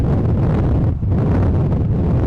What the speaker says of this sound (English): The wind gusts are something that are difficult to deal with.